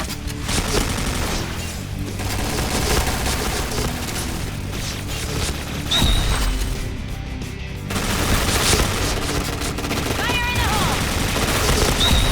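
HK-417 rifle fire in the Point Blank shooter game, with dense rapid bursts and sustained automatic volleys running nearly continuously, plus occasional booms, under excited talk from a player.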